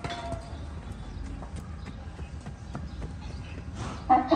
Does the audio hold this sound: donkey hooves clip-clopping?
yes